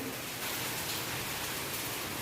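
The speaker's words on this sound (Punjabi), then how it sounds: "ਸਾਡੇ 1 ਘੰਟੇ ਤੋਂ ਉੱਪਰ ਹੋ ਗਿਆ ਮੀਂਹ ਪੈਂਦੇ ਨੇ ਉਹ ਵੀ ਇੰਨਾ ਤੇਜ਼" Dense, steady hiss of heavy rain pouring down without a break, filling the whole space evenly.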